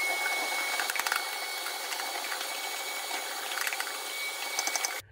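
A vacuum sucks ash from the base of a Harman P68 pellet stove, a steady close whooshing hiss with faint rattling bits, cutting off abruptly at the end.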